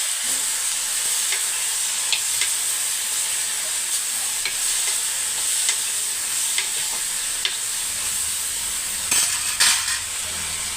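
Onions and tomatoes fry in a pan with a steady, hissing sizzle throughout, while a spoon scrapes and clinks against the pan now and then, louder near the end.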